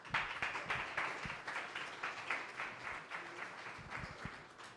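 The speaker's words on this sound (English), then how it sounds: "please, a round of applause for Shaheen from 11 Labs" Audience members at an engineering meetup in San Francisco clap for an incoming speaker from ElevenLabs, a soft, moderately sized round of applause with distinct individual claps, sustained and even.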